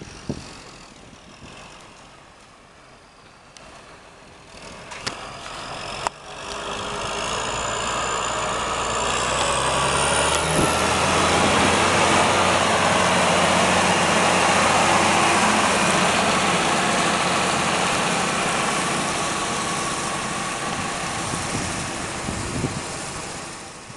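A tractor spreading mineral fertilizer on a corn field: a steady, loud engine drone that swells after a few seconds into a broad rushing roar and holds, with a few clicks and knocks early on.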